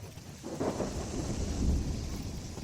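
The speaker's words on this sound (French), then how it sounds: "Une violente tempête se déchaîna subitement" Thunder rumbles low and heavy amid steady rain in a storm, a rolling roar that swells and lingers with no voice over it.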